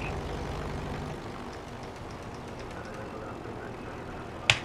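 RV-6A propeller plane taxiing in Microsoft Flight, a steady low engine drone held at light throttle throughout, with a brief sharper burst of noise near the end.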